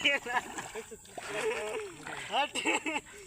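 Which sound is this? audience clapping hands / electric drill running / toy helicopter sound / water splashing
water splashing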